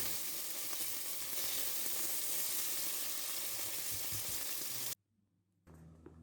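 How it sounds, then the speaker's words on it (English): Meat sizzles and spits loudly in hot oil in a pan, a dense steady frying hiss that runs close up for about five seconds, then cuts out abruptly and returns more faintly at the end. "If required, fry in batches so the oil remains hot throughout the process."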